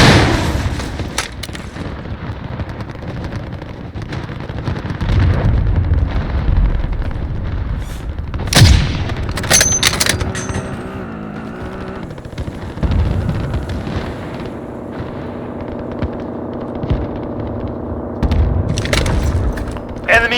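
Cruise missile strikes in Call of Duty Modern Warfare Ground War: heavy booms and a sharp crack among scattered gunfire, loud and near, with rumbling between blasts.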